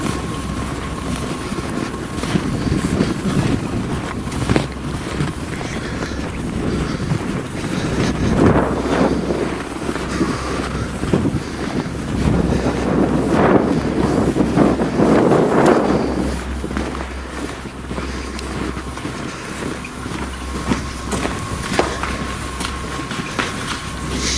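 Strong wind buffeting a microphone outdoors near a rooftop, a loud continuous rumbling roar that swells and fades in gusts throughout, with no talking.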